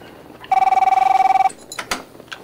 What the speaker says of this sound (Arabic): يلا اجانا تليفون